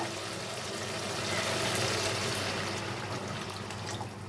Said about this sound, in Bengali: এখন আমি এর মধ্যে জল অ্যাড করে দেব